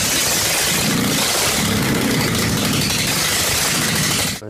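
The engine of a restored 1935 Hanomag Rekord car runs loud and close, a steady, dense mechanical rumble that holds for several seconds before cutting off.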